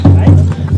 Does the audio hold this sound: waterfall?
no